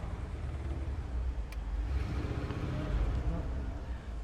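A 1978 Ford Bronco engine idles smoothly as a low, steady rumble that stays faint and even throughout, with no sputtering.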